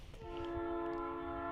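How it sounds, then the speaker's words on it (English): A train horn sounds steadily and fairly close for over a second as the train passes, the sustained chord holding level after a brief rumble at the start, with no voices. "Here comes the train."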